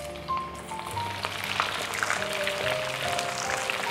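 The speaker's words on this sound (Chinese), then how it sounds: "油温80热，鱼肉下锅" Fish pieces dusted in starch and frying in hot oil in a wok give a steady, close, dense sizzle and crackle throughout with no talking.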